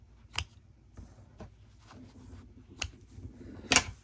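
Scissors snip embroidery thread on a cat plushie, several short, crisp clicks spread irregularly across a few seconds, close and fairly quiet, the last cut the sharpest.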